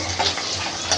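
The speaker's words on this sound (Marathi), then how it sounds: "आता कांदासुद्धा थोडं तळून घेते" Onion frying in hot tempering oil over a low gas flame for a bitter field bean curry: a steady, close crackling sizzle with faint popping ticks, heard alone for about a second.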